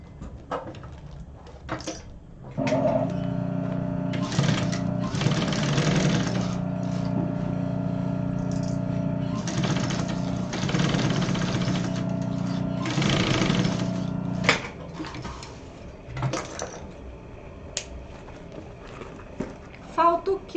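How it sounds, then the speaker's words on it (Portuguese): Sewing machine running a safety seam on a fabric double toiletry case, steady motor whir in several long bursts with short pauses, close and fairly loud, with a voice talking at the start and end. "Já vamos fazer a costura de segurança aqui."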